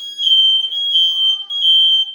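A smoke alarm set off by burnt toast in a kitchen, sounding a loud, steady high-pitched electronic beep in three long pulses with short breaks between them.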